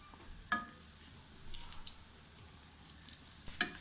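Beignets fry in hot oil and are gently turned over, a soft steady sizzle broken by a few light clinks and taps from the utensil, quiet and close.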